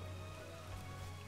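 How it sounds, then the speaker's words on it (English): Steady rain falls in a Lara Croft and the Temple of Osiris game level, a constant close hiss with a low rumbling hum underneath and no talk. "It's raining now."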